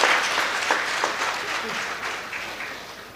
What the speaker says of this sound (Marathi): वाजवून घ्या, टाळ्या वाजवून घ्या,